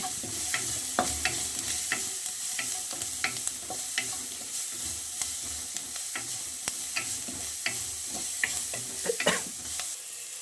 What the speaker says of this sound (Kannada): ಇದು ಒಂದೆರಡು ನಿಮಿಷ ಫ್ರೈ ಮಾಡಿ ಹಲಸಿನ ಬೀಜ